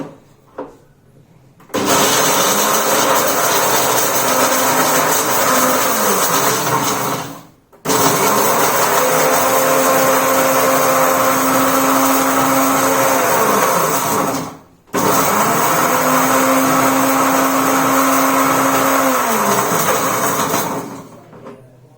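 A mixer grinder whirs as it grinds cashews, almonds and makhana into powder, three loud sustained bursts of motor roar, each several seconds long, separated by brief stops.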